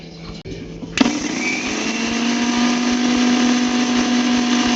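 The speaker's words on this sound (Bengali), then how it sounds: "একটু নুন দিয়ে দিলাম, একটু হলুদ, এবার এটাকে আগে পিষে নিই।" An electric grinder grinds mustard seeds, cumin, salt and turmeric. A few clicks come first, then the motor starts abruptly with a loud, steady whine that holds close and even until the end.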